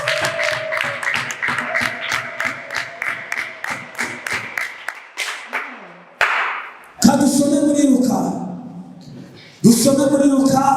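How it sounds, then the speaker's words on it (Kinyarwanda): A church congregation claps together in a brisk, even rhythm for several seconds, the claps close and sharp, before a preacher's loud voice takes over in bursts. "Komera Imana amashyi."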